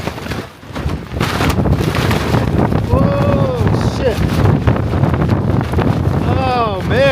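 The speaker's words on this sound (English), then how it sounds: "Man, that is strong wind." Strong gusty wind buffets the microphone at an Idaho campsite, a loud continuous roar broken by brief lulls, with a person speaking and exclaiming over it.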